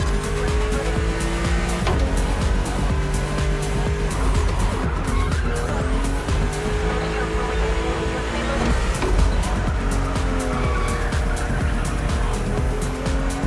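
BMW M CSL in The Crew Motorfest, engine revving hard through repeated gear changes with rising and falling tones, tyres squealing and skidding, loud and close throughout.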